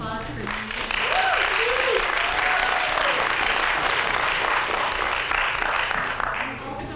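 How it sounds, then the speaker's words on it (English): Audience applauding after a sustainability-themed play at a Tri-C arts and culture event in Cleveland: steady, dense clapping from a full crowd sustained for about seven seconds, easing off near the end, with faint voices and cheers mixed in. "please, another round of applause for me"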